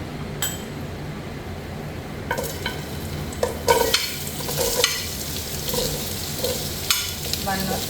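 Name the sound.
onion frying and being stirred in a pan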